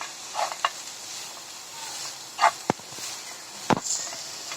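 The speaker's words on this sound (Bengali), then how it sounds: "এখন আবার ভালোভাবে মিশিয়ে একটু লাড়া দিলাম।" Grated radish vermicelli with coconut stir-frying in a pan: a low, steady sizzle with a few scattered spatula taps and scrapes, close and soft, and no talking.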